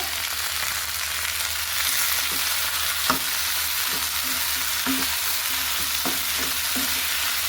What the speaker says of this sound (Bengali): এবার আমি ব্রোকলি আর টমেটোটা দিয়ে দিব সেদ্ধ ব্রোকলি আর টমেটোটা একটু ভালো করে ফ্রাই করে নিব